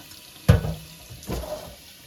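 Running water splashing as an infested orchid is washed, with two distinct bursts of pouring water over a quiet background.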